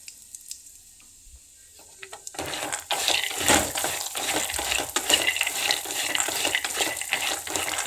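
Ingredients frying in a pan for charmuri: after a quiet start, a sudden loud sizzle erupts and keeps crackling with stirring scrapes close by.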